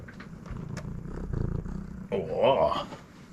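A cat purrs close up, a low rumbling vibration, with a brief higher sound partway through.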